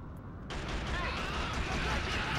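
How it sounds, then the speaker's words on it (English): Dense, rumbling gunfire and explosions burst in abruptly in the PS2 shooter Killzone, a mounted machine gun among the battle noise, continuing as a loud, unbroken wash of combat sound. "Just walk into my gunfire."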